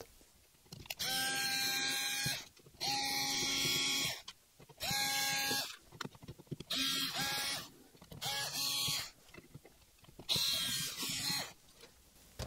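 An electric screwdriver unscrews the casing of a mystery RF box in repeated bursts, about six loud whining runs separated by short pauses and small clicks, close up with no speech.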